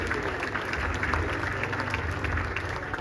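An audience at the Mister USA pageant in Hollywood claps steadily for the top 10 contestants, a thick, continuous wash of applause with some crowd murmur underneath.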